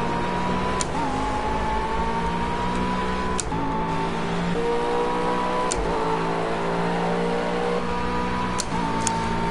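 Steady race car engine drone in the Project CARS racing game, a high-powered car holding a fairly constant pitch with small rises and dips as it shifts and drives. Faint clicks are spaced through it, and no one talks.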